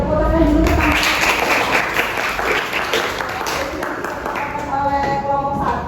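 Classmates clap for a group presentation in a classroom, a steady burst of applause at close range with voices mixed in throughout.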